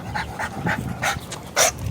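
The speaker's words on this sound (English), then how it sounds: "They're nice puppy dogs." Dogs, including an English bulldog and a Rottweiler, out on a downtown walk give a few short, close barks and yips in quick succession, with no talk over them.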